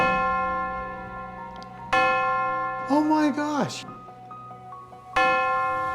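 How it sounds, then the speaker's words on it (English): A bell in a 1910 church strikes twice, each toll ringing out with a long, sustained hum, and a voice briefly exclaims between the strokes. "ring the bell now?"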